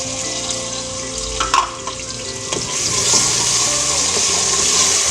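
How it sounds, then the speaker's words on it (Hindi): Masala of ginger-garlic paste and tomatoes fries in a pan for palak chicken, a loud, steady close sizzle with brief stirring scrapes partway through and the hiss swelling toward the end. "हाँ जी, अब भून गया अच्छी तरह मसाला।"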